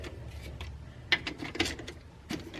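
Ratcheting clicks from a wrench loosening a bolt on the rear axle of an abandoned Monte Carlo SS, close and fairly quiet, with a few sharper metallic ticks against a low background.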